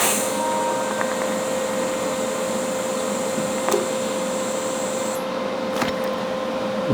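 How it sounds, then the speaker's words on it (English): Steady broadband hiss of a gas torch heating a weld joint on a metal sculpture, constant and fairly close for most of the clip, with a few faint taps and a brief change near the end. "So I'll heat the weld up, and just kind of pull it just a little bit."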